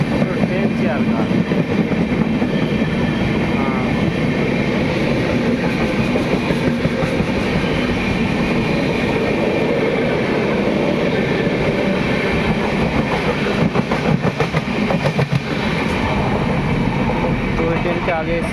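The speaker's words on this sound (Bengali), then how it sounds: "আর একটা ট্রেন ঢুকছে ভদ্রক স্টেশনে" A train pulls into Bhadrak station on an Indian railway line, a loud, continuous rumble of rolling wagons that stays steady throughout, with voices talking over it.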